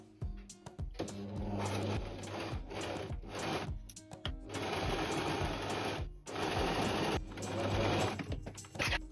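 A sewing machine runs in several bursts of rapid, mechanical stitching, stopping and starting with brief pauses between runs, close and fairly loud.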